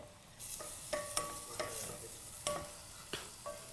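Onions sautéing in a pan for spaghetti pomodoro: a soft, steady sizzle with several sharp scrapes and clacks of a utensil stirring, fairly faint and with no talk.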